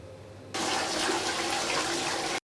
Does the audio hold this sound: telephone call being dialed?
no